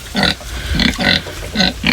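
Pigs on a farm give several close, loud grunts in a quick uneven series, each short and throaty, with no talk over them.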